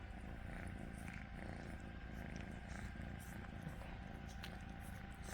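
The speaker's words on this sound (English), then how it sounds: "Oh my, he's purring." A cat's steady, low rumbling purr runs close and continuous throughout, soft and rhythmic with no other sounds.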